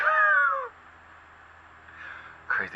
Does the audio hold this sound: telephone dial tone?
no